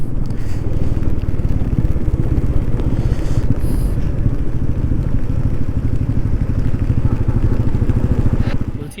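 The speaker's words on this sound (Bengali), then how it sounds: "চেন ঘাটঘাট করছে।" A motorcycle on a mountain ride from Chandratal to Manali after many water crossings runs with a loud, close engine and a fast, continuous clattering rattle from the chain.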